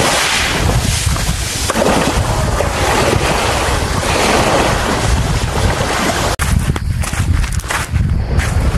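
Strong wind buffets the microphone at a Turkish beach cove with fine pebbly sand while sea waves wash and roll in continuously, loud and close with no voices.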